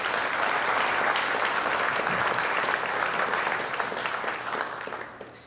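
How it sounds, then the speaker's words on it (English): An audience at a high school athletics hall of fame induction ceremony applauds warmly, a thick sustained burst of clapping that stays strong for several seconds and then tapers off toward the end. "Please join me in a round of applause"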